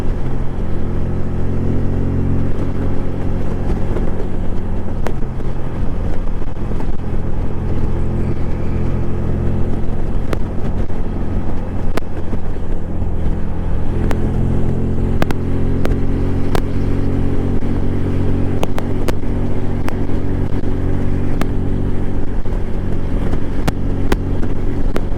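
Steady engine drone and road rumble from a Can-Am Spyder three-wheeled motorcycle riding on the road in cold weather, continuous and loud with wind buffeting and occasional clicks, recorded up close on a GoPro.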